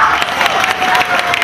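Audience applause with some cheering for the live cover band in Hazleton, a steady dense wash of clapping throughout, close and loud.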